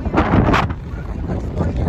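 Strong wind buffeting the microphone on the long Tibetan bridge at Sellano: loud, rough gusty roar close up, swelling and easing over the short stretch, with a voice faintly mixed in near the start.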